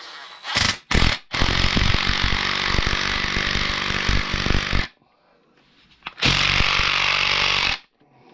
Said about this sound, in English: Put it on your impact and then thread it in right now.